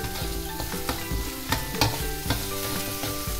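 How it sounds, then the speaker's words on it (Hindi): Onions stirred as they fry in a pan for aloo sabzi, a dense close sizzle broken by repeated spatula scrapes and clanks against the pan, with a faint steady hum underneath and no talking. "अब जब तक प्याज भूनते हैं, तब तक हम इसको हिलाएंगे।"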